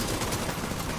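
Gunfire from The Division 2 video game, a dense, continuous burst of shots packed close together at steady loudness with no pauses, heard alone without talk.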